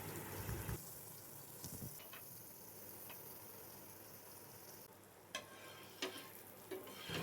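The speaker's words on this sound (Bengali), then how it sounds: "ফ্রাইং প্যান গরম করে 1 চামচ বাটার দিলাম।" A spoonful of butter sizzles in a hot frying pan with a soft, steady hiss, broken by a few clicks and light scrapes, faint and close with no voices.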